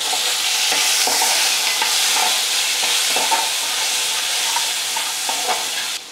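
Garlic, curry leaves, dried red chillies, onions, tomatoes and green chillies fry together in a pan, a bright continuous sizzle with repeated scraping stirs and soft clinks, fairly close.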